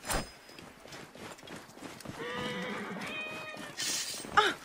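Cats meow in the video game Assassin's Creed Origins, several drawn-out tonal cries in the middle of the clip, fairly faint, with a few brief clanks and gasp-like bursts around them.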